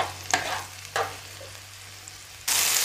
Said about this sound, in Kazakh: Жарим как следует помидоры.